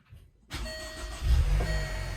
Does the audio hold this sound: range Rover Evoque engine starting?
yes